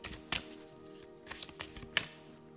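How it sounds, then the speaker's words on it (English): A deck of tarot cards being shuffled by hand, several quick riffling bursts with soft papery slaps between them, close and fairly quiet. "let's get shuffling and see what Spirit wants to tell you today"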